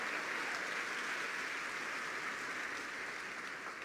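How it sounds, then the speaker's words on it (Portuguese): A church congregation applauds steadily, giving a continuous wash of clapping at a moderate, even level. "Dá uma salva de palmas ao Senhor"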